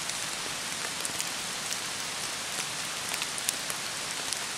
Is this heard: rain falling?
yes